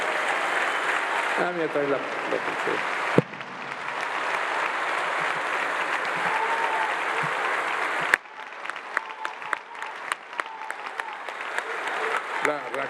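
Large audience applauding a speech by Carlos Slim Helú at a México Siglo XXI event, loud sustained clapping filling the hall, with nearby voices talking over it and a sharp cut midway to thinner scattered claps.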